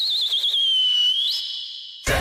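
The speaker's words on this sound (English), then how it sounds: "Start the whistles." A single long, shrill whistle wavers and then holds steady for about two seconds, loud and close, followed by a sudden burst of crowd noise, as cricket fans of Chennai Super Kings cheer.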